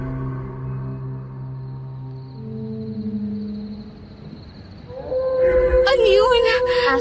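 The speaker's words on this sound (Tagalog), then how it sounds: "Ngayon ka lang ba nakarinig ng umaalulong na aso?" A dog howls outside a hut on a mountain at night, with a long wavering cry rising and falling over several seconds. It is faint and distant at first and grows louder and closer near the end.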